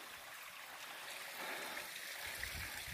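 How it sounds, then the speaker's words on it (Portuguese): Mountain stream water flowing steadily in the Serra da Mantiqueira, a continuous close rushing and gurgling with no voices. "A água da serra."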